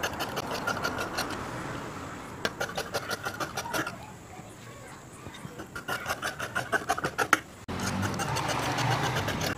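Fabric being cut with scissors for a nightie, heard as repeated rapid snipping bursts in clusters, close and fairly quiet, with pauses between runs of cuts.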